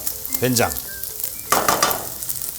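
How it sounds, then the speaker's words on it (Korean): Soy sauce and gochujang sizzle and crackle in hot oil, with a loud burst of frying at the start and another as the pan is stirred, up close and without speech. "된장 고추장을 이렇게 기름에 살살살살 볶아주면은 훨씬 풍미가 올라갑니다"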